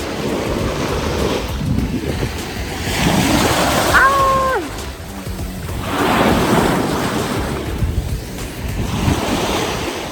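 Waves wash in and out on a beach with clear water, the surges swelling and fading under strong wind noise, and a voice talks briefly.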